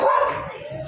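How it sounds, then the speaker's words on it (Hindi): A dog barks once nearby on a street, a short loud yelp that trails off, with faint background noise. "ये डॉगी है ना जो सामने ये भौंक रहा है"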